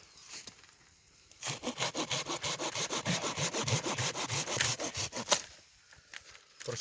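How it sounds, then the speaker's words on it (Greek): A pruning saw cutting through grapevine rootstock for grafting, a fast rhythmic rasp of about twenty close back-and-forth strokes that stops abruptly, with quieter handling before and after. "Στη συνέχεια παίρνουμε το μπριόνι και κόβουμε"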